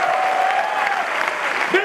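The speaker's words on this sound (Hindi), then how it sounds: "दोस्त, तालियां बजाओ तो अपने लिए बजाओ, दिल से बजाओ, चिल्ला के बजाओ।" Applause from a celebration audience in a hall, a dense, fairly loud wash of clapping that runs the whole time while a voice calls out over it.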